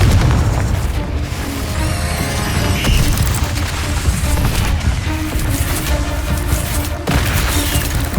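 Explosive spells cast during combat in the video game Hogwarts Legacy, a dense, loud barrage of booms, bursts and crashes layered over game music, continuous with brief dropouts.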